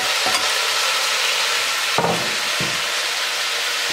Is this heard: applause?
no